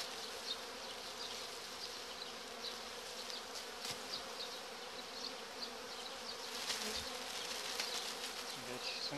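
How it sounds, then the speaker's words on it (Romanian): Honey bees swarming inside a feeder bag in a hive in March make a constant, close, droning buzz with small flickers of individual wingbeats, and no speech. "S-a umplut punga cu albina."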